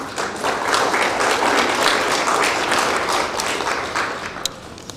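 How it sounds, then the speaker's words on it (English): A room full of people claps during a school district visit by USDA and state education officials, a continuous, even burst of applause that tapers off in the final second. "I think that deserves a round of applause."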